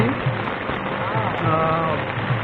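Steady rain patters on a taut tent close by at a camping site, a dense continuous hiss with a voice murmuring faintly underneath.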